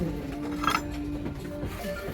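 Ceramic plates, among spring-print salad bowls, clink together as they are handled during a store product review. There is one brief, bright clink over quiet indoor background noise.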